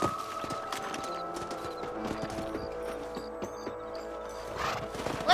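Horses' hooves clip-clop steadily in Red Dead Redemption as riders travel across open ground, a continuous close rhythm of hoofbeats with an occasional whinny and no talking.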